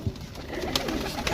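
Pigeons make soft, faint cooing and fluttering sounds nearby across a brief moment.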